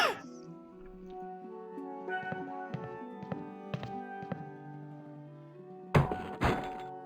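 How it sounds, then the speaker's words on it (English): Hammer strikes knock a nail loose in The Curse of Monkey Island, a handful of sharp, hollow thunks sounding over a gentle musical backdrop, ending in a louder clattering impact as something falls. "Let's see if we can bang this nail out here"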